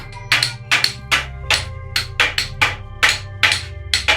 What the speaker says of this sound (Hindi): ना कोई मशीन, ना कोई शोर, बस हथौड़ा की ठक ठक और आग की आवाज